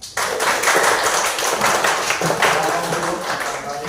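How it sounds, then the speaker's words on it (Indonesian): Classroom group clapping for a student team, a brisk, fairly loud burst of many hands that carries on steadily throughout. "Tepuk tangan untuk kelompok 4."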